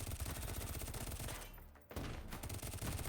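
Shotgun fire in a competitive shooter video game match, a loud, continuous barrage of rapid shots that briefly drops away mid-clip and then resumes at full intensity, with no talk.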